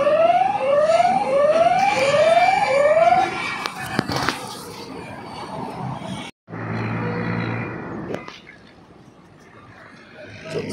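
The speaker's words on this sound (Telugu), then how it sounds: "మీకు సైరన్ ప్లే కావాలంటే ఇక్కడ నొక్కండి." A siren triggered from a Solar Linkage solar-powered security camera app sounds as loud repeated rising whoops, about five quick sweeps. It then cuts to a harsh broadband blare and a buzzing hum before fading to quieter noise.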